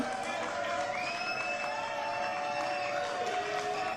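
Studio audience applause on a French TV talk show, steady and dense for the full stretch, with a bright tonal sound ringing over the clapping.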